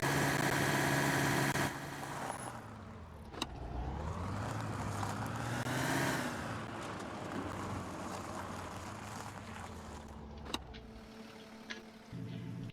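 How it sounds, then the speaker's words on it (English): A police car engine in the Arma 3 video game reverses, its tone rising and falling in pitch as the revs change, with a few sharp clicks along the way. "I'm going to reverse so you can get a sound for the engine."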